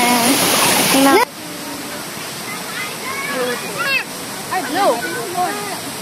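Santo Falls, a waterfall, roars loudly for the first second, then the clip shifts to a quieter wash of water as people talk and call out.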